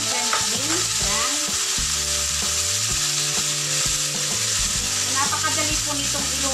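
French beans and ground pork in chilli garlic sauce sizzle and fry steadily in a hot pan, with clattering stirring from a utensil throughout and music running underneath.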